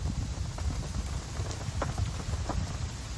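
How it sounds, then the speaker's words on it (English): Rain begins falling outdoors in Florida, a steady hiss of drops pattering on surfaces with scattered sharper taps and a low rumble underneath, moderately loud and continuous with no talking. "It's starting to rain right as I'm shooting the video."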